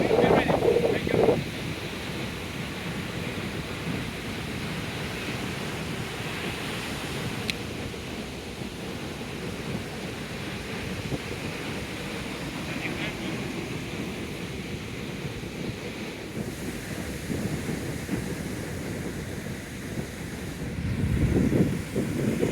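Ocean surf and steady wind on a Koh Samui beach in Thailand, a broad continuous wash of breaking waves with gusty microphone buffeting throughout and a louder swell near the end.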